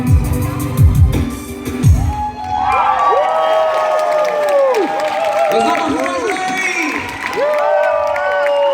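A crowd at a 2016 concert in Ogre applauds and cheers the band, loud and continuous after a few opening notes, with shouts rising above the clapping.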